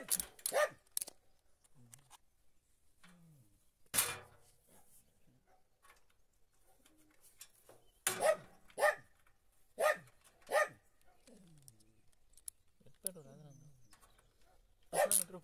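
Dogs bark along a country road in sharp, scattered bursts, some close and loud and others farther off, with single barks and quick pairs separated by quiet stretches.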